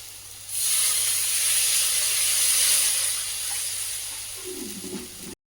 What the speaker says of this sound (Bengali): তেল ছেড়ে যে মশলা থেকে এবার জল দিয়ে দেবো।